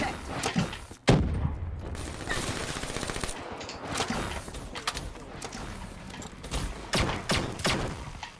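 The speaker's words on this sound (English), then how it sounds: "Sounds like a Star Wars weapon when it does that." Video game weapons fire in sharp, sci-fi blaster-like bursts with rapid gunfire-style cracks, one loud blast early then scattered volleys amid mechanical clatter and faint talk.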